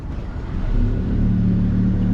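A Stabicraft 2500 Ultracab's outboard kicker motor idles with a steady low rumbling drone that swells slightly as it settles into running, close and continuous with no talk.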